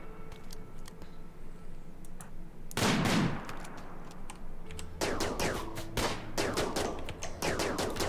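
Rimworld colony firefight: sharp, clicky gunshots crack in scattered bursts, a dense rattling volley then more rapid pops in quick succession, fairly crisp and close.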